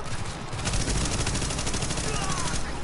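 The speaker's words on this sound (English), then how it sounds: "The escort party's taking heavy fire from the roof." Heavy gunfire rattles from a rooftop gunner in a video game, a dense continuous volley of rapid shots filling the whole stretch at steady loudness.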